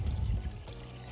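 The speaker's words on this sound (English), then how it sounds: "we're about to pour this delicious shrimp stock that we made early into our mix" Shrimp stock poured into a seafood gumbo pot, a brief close gush of liquid that is loudest at the start and then settles into a softer trickle.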